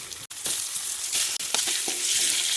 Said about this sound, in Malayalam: നമുക്ക് ഈ മുട്ടയൊന്ന് ഇതിൽ വഴറ്റിയെടുക്കാം കേട്ടോ.